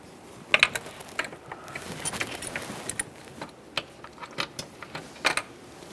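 Ratchet clicks as intake manifold mounting bolts are snugged down on a 1998-2011 Ford Ranger 2.3L four-cylinder, irregular bursts of ticking pawl with a few louder clinks, close and fairly quiet.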